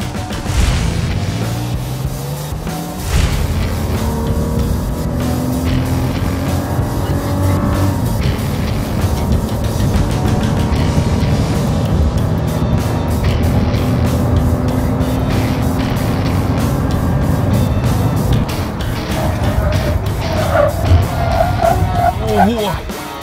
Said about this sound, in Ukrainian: беремо драгі і будемо вимірювати 0-100, 402 метри, а також гальмування сотні до нуля